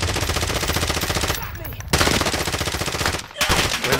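Automatic gunfire rattling through a video game shootout, loud rapid bursts firing almost continuously, broken by a couple of brief pauses.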